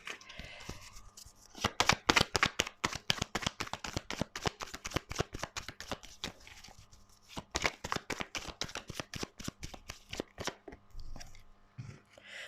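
Tarot cards shuffled by hand in a quick, steady run of crisp riffling slaps, loud and close, with a brief pause near the middle before the shuffling resumes.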